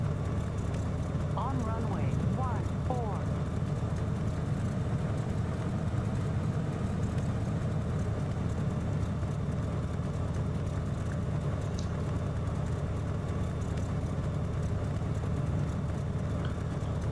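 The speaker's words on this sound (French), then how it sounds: "Décollage." A small airplane's engine drones steadily during takeoff on a coastal flight from Montpellier to Nice, a constant low cabin hum with a voice speaking briefly early on.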